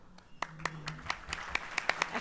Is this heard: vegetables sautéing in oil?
no